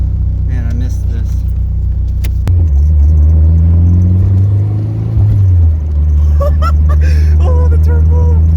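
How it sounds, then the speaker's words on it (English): A turbocharged KA24DE engine in a Nissan 240SX S14 drones loudly up close, its pitch sliding and holding as revs change, with faint whistly spool tones above and a person talking over it. "Oh my gosh, the turbo."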